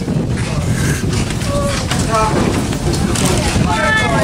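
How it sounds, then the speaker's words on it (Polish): Steady wind buffets the microphone atop a lookout tower over a lake at Wdzydze, Poland, with a broad rushing roar, while voices are faintly heard talking underneath. "No tutaj wiatr ładnie wieje."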